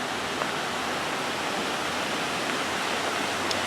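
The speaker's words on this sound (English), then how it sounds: "And then we take the one to the right, and we're at the bottom of that waterfall." Steady, full rushing of a garden waterfall in Fallbrook, heard close and continuous with no voices, a broad even roar throughout.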